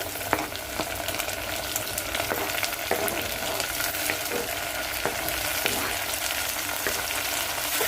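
Tomatoes frying with onions in a pan for tomato rasam, a steady close sizzle with occasional stirring clicks and scrapes throughout, no voices.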